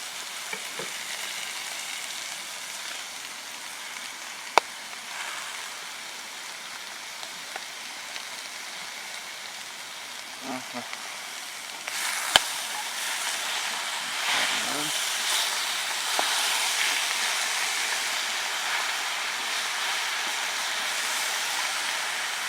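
Mushrooms fry in a pan with a steady, moderately loud hiss that swells toward the end, with a few scattered clicks and stirring sounds and no talking.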